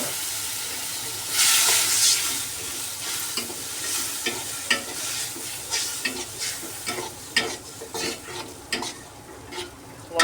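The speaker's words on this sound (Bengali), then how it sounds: "সামান্য একটু জল দেবো মশলাটা কষানোর জন্য" Cumin seeds and a spice masala with a little chili powder sizzle steadily in a pan after a splash of water is added. Close, repeated scraping stirs run over a continuous hissing fry, loud and without voices.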